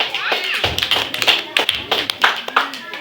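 A church congregation clapping in praise of Jesus during a service: a loose patter of hand claps mixed in with a preacher's speech, with irregular sharp slaps rather than a steady beat.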